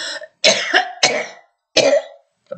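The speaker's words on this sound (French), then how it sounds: "je tousse" Four harsh, close coughs from a hoarse-voiced woman in quick succession, each a short burst separated by brief silences, with a fainter fifth at the end.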